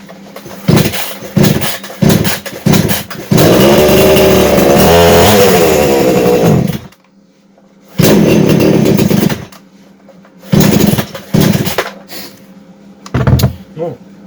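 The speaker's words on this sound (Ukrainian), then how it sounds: "Спробуємо запустити." A Mächtz MCG-3145 petrol chainsaw with a clogged air filter is started, sputtering in short bursts, then running loud for a few seconds before cutting out and restarting in several brief revs close by.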